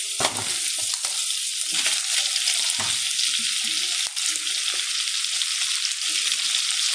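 Chopped cabbage, chayote and carrots stir-frying in a pan make a loud, close, continuous sizzle, broken by a few scraping and knocking stirs.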